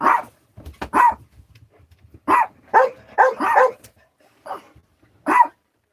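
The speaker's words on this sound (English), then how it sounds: "It sounds like there's dogs out there." Several dogs bark outdoors in irregular bursts, some single sharp barks and some quick clusters, fairly close and loud with brief quiet gaps between them.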